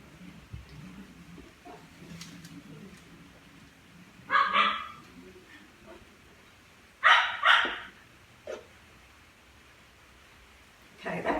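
Young dogs bark and yip in short bursts a few times while playing, with soft scuffling and quiet background noise between barks.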